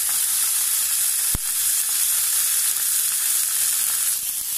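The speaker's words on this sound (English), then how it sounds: "Now that's the sizzle that you want." Steak sizzles steadily in a hot frying pan, a continuous loud, bright hiss with a single sharp click partway through, and no voices.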